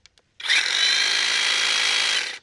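An older cordless hedge trimmer, a few years old with a dulled blade, starts after two faint clicks and runs steadily for about two seconds with a loud, buzzy, clangy whine close by, then cuts off.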